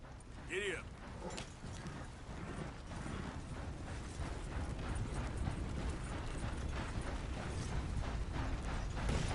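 Horse hooves clip-clop at a steady riding rhythm in Red Dead Redemption 2, with saddle creaks and a brief voice near the start.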